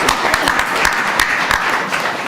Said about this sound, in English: We give a big applause to Farhana for her success.